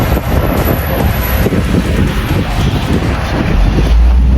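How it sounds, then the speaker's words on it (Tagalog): Cold evening wind blows hard into the microphone outdoors in the UAE, a loud continuous rumbling buffet with low gusting roar and no pauses. "Malamig na yung hangin."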